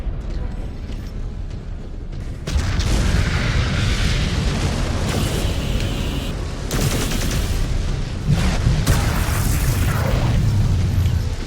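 Missile explosions in a MechWarrior Clans combat game burst loudly and repeatedly, a sustained roar of booms and blasts over rumbling mech noise, with voices speaking amid the barrage.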